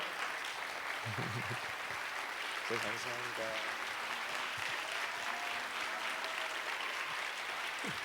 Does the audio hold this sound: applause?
yes